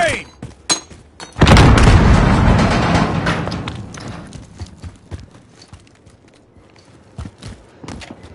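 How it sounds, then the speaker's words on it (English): A grenade explosion in the video game Call of Duty, one heavy boom that hits suddenly and rumbles down over a few seconds, with sharp clicks and game sounds before and after it. "Throwing grenade!"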